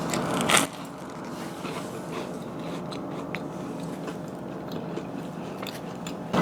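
A sharp crunchy bite into pizza reheated from frozen at the start, followed by muffled chewing against a steady background hiss.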